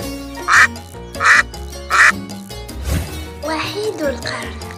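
A duck quacks three times in a steady rhythm, loud and close, over light background music, followed by a brief musical flourish.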